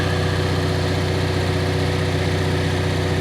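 A generator engine, treated with Marvel Mystery Oil and fresh after an oil change, runs close and loud in a steady, even drone with a dense mechanical hum; any tapping stays buried in the continuous engine noise.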